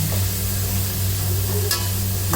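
Vegetables and capsicum sautéing in a hot pan for vegetable fried rice, a steady close sizzle with light stirring scrapes and a low hum underneath, no talking.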